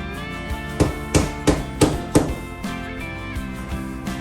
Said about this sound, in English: It's easier to hammer this in without the pin first